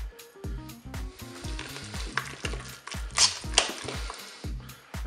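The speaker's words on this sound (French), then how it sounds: "je vais rajouter donc la cancoyote pour bien mélanger" Mashed potatoes mixed with cancoillotte cheese in a Cookeo pot, heard as repeated thick, sticky stirring and squelching strokes in a regular rhythm with light scraping, close and loud without speech.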